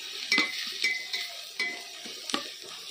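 Onions fry in a pan and are stirred with a utensil, soft scraping strokes recurring roughly every half second over a steady, fairly quiet sizzle.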